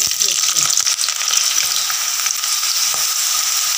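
Jackfruit pieces fry in hot coconut oil with a loud, steady, close sizzle and crackle that runs throughout, with occasional light stirring scrapes.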